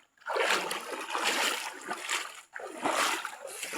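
Feet splashing through a river while wading across it on foot in a rainforest, loud close sloshing bursts in rhythmic strides with a brief pause near the middle.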